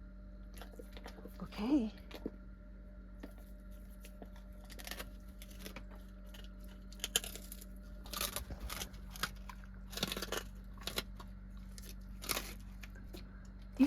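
Someone bites into and chews a duck neck, with scattered crunchy bites and chewing noises close by, one louder crunch early on, set against a quiet background with a brief spoken word.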